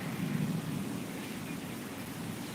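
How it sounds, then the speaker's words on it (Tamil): Steady rain falls continuously, a soft even hiss of drops with a low rumble underneath and no voices. "நம்ம ஊருக்கு கடுமையாக மழை பெய்யுது"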